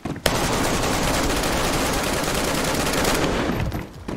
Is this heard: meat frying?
no